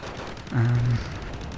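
Artillery and gunfire in the video game Wargame: Airland Battle, one loud rumbling burst that lasts about half a second, with low tones over a steady din of battle.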